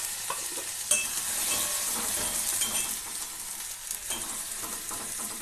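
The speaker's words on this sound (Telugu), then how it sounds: "ఈ మసాలా అంతా మనకు పచ్చి వాసన పోయినంత వరకు వేగనివ్వాలి." Masala spice paste fries and sizzles in a pan, a continuous bright hiss with occasional stirring scrapes and clinks, close and moderately quiet.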